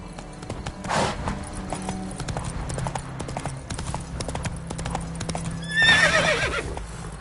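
Horse hooves clip-clopping at a gallop in The Witcher 3 video game, a steady rapid beat under ambient game sound, with a whinny rising near the end.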